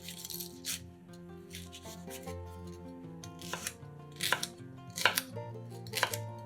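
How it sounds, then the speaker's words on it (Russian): A knife slices and chops a bell pepper on a cutting board in several crisp, irregular strokes, close up, over soft background music. "У перца срезаем верхнюю и нижнюю части."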